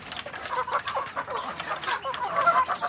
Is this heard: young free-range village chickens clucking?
yes